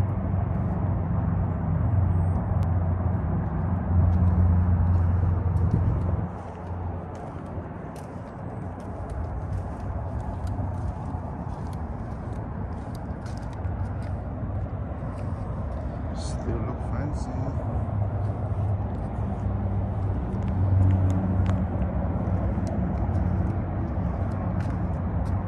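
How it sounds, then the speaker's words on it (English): A 2018 Lexus LC500 cruising, heard as a steady low engine and road hum from inside the cabin, with occasional light clicks and bumps, and people talking over it. "First time I've been in the LC500 Lexus 2018."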